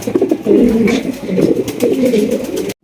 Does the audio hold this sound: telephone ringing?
no